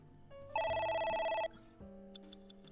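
A telephone rings in the video game AI: The Somnium Files, one loud electronic ring burst of about a second that then gives way to quieter game sounds and soft clicks.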